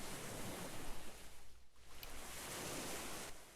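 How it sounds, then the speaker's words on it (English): Ocean surf rolls and washes steadily in the Second Life virtual world, a dense, hissing wall of wave noise with a brief dip midway before the roar builds again. "the waves are probably loud and everything"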